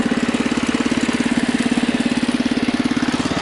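A Husky 600 engine with a newly replaced carburetor idles steadily, its rapid, even firing pulses loud and close throughout.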